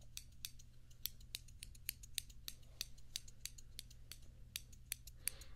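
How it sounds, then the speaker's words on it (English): Borrowed scissors snip through bangs being trimmed, producing a quick series of crisp, close metallic cuts at an irregular pace over a faint low background hum. "I borrowed these really nice scissors from my mom"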